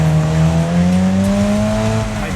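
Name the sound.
car driving with tire squeal in a video game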